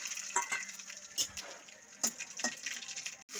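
Curry leaves, cumin, mustard seeds and fennel spluttering in hot oil, a soft crackling sizzle punctuated by a few brief pops and clinks of a spoon against the pan.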